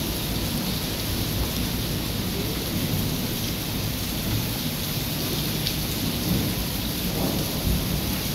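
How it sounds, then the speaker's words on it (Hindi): Heavy rain pours steadily with a dense hiss in Sialkot, while low thunder rumbles in the background; no voices. "लो जी ऐसी बारिश हो रही है, मजा आ रहा है यार।"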